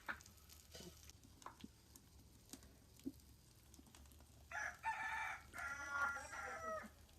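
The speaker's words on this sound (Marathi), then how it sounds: "कोंबड्याने मस्त म्युझिक दिले." A rooster crows outdoors in a village setting, several drawn-out calls coming in the latter half, moderately loud against faint sizzling of chicken frying on roof tiles over a fire and scattered small clicks.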